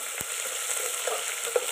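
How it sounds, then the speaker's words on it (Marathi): Tempering spices sputter in hot oil on a wood-fired clay stove for chicken curry, giving an even, continuous sizzle with a few small pops. "फोडणी छान लाल सोनेरी कलर येईपर्यंत तळून घ्यायची"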